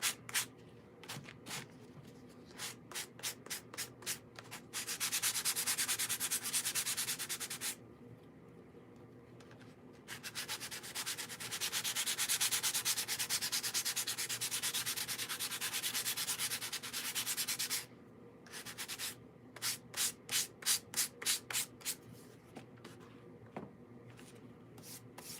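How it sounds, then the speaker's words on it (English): Light hand sanding over a painted surface, in quick rasping strokes that come in rhythmic bursts broken by longer continuous rubbing passes, close and quiet with no voice. "I'm just going to give it a light sand in case there's any raised paint."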